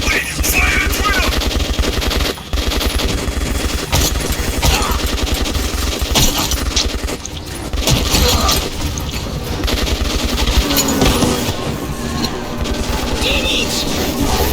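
Sustained machine gun fire in the shooter game Metro 2033 Redux, dense rapid bursts rattling almost continuously with brief pauses, loud and close.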